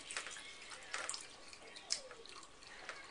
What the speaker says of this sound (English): Jakey's going to pour his lemonade into the cup and give it a taste.